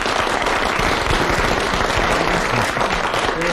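An audience claps continuously, a dense, steady burst of applause with no voices over it.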